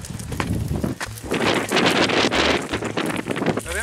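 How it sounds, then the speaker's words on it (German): Strong North Sea coastal wind buffets the microphone in gusty, rumbling bursts, loud and continuous with no other clear sounds. "ich hoffe, man versteht mich, weil es so windig ist"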